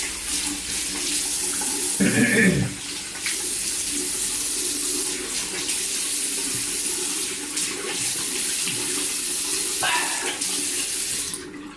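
Tap water runs steadily into a bathroom sink while the face is wetted before a shave, a close continuous splashing stream with a few louder splashes from hands in the water.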